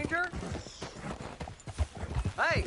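Horse hooves clip-clop in Red Dead Redemption 2, a few uneven thudding steps up close, mixed with short tonal calls that resemble a whinny and a voice talking over them.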